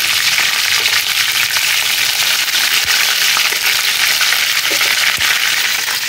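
Vegetables fry steadily in a pan on an induction cooktop while poha is prepared, a continuous bright sizzle and crackle held close and loud throughout, with scattered small pops and no talking.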